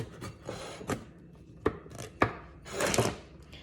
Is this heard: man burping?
no